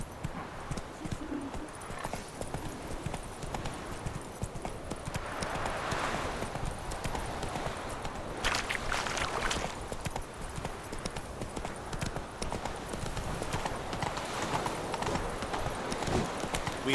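Horse hooves clip-clopping in the video game The Witcher 3, a steady rhythmic galloping patter, moderately near, with faint bird coos in the background.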